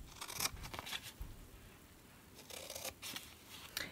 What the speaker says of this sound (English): the rest of these score lines, we're just going to cut up to the score